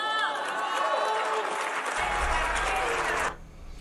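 Applause breaks out in the Mexican Senate chamber, a steady wash of clapping heard close, with a shouting voice and low rumble mixed in partway through before it cuts off.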